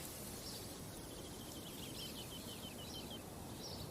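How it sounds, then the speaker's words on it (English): Birds singing in the British countryside at a flower show, short high chirps and twittering phrases repeating every second or so over a steady wash of insect buzz and outdoor ambience. "there's the birds"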